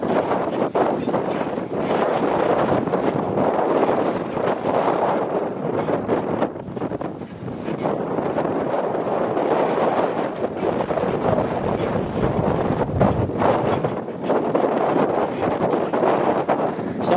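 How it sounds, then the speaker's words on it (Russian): Strong outdoor wind buffets the microphone in a continuous, loud, rumbling roar that barely lets up for about seventeen seconds. "Ветер сильно перебивает."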